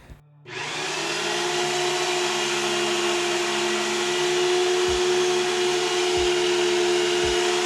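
Electric winch motor hauling a motorcycle slowly up into a trailer, a steady continuous whine and hum that holds evenly throughout, with a few faint low thumps near the end.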